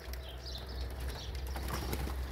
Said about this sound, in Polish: Gołębie potrzebują tej wody. Potrzebują kąpieli tak samo jak i my.